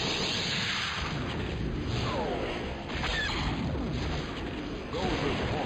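Proton torpedoes strike an enemy escort carrier in a space strategy game, producing rumbling, booming blasts over a continuous hiss of battle noise, with a voice talking through it.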